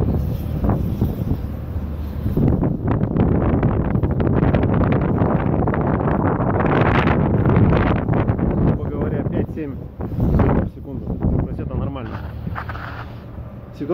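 Strong wind buffets the microphone outdoors at a Norwegian terminal, loud and gusty with roaring bursts that ease briefly and return, while someone talks at times.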